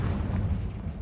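A single deep, rumbling blast from the Confringo explosion spell in the game Hogwarts Legacy, heavy and booming for about a second with no voices over it.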